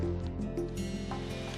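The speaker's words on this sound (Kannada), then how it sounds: "ಸೊ ನೀರು ಕುದೀತಾ ಇದೆ" Water with salt and a spoon of oil comes to a boil in a pan on a gas stove, a low steady bubbling and simmer with no voices.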